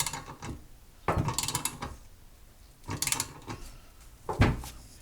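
A 7/8 wrench turns a press tool, squeezing an upper control arm bushing into its receiving tube: three bursts of ratcheting and creaking metal, close and fairly quiet, separated by short pauses.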